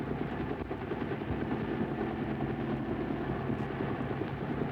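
Helicopter gunship of the Vietnam War era flying over a combat area, a steady low rotor and engine drone that stays loud and constant throughout, with no talk.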